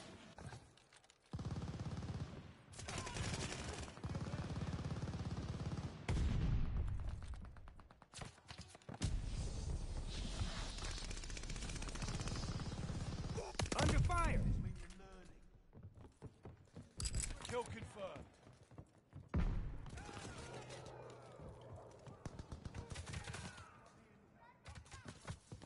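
An enemy strafing run in a video game brings bursts of rapid gunfire and explosions that come and go over about twenty-five seconds, with a voice talking at times.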